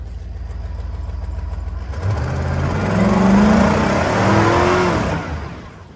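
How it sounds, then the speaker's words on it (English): A truck engine idles with a low rumble, then revs up hard and holds high while the tires spin, rising and falling before it drops away near the end. "we're a one-wheel spinner because we definitely roasted the tires over there"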